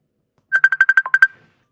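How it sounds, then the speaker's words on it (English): A phone rings with a quick series of about eight short electronic tones, loud and close, then falls silent. "Got a phone call, y'all."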